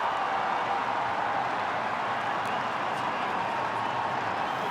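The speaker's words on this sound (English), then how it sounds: "the Indian fans go crazy" Indian cricket fans in a large test-match crowd in Australia cheer and applaud in a dense, steady roar of clapping and shouting that holds at full volume throughout.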